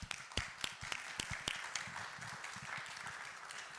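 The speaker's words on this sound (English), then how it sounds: "So I would like everybody to give an applaud for them." A church congregation applauds preschool graduates during a Sunday worship service, starting with a few sharp, scattered claps that swell into a steady, moderate round of applause throughout.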